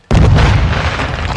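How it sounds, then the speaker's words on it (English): A grenade blast in a first-person shooter video game: a sudden loud boom that hits at once and rolls on as a sustained low rumble. "Grenade!"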